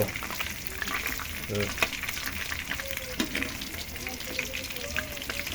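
Tilapia fish frying in oil, a dense continuous sizzle with crackling bursts, close and fairly loud, steady throughout with faint voices or kitchen sounds underneath.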